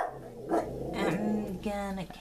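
A pet dog growls and grumbles in a low, rumbling way indoors, in a few uneven bursts, while a person talks over it.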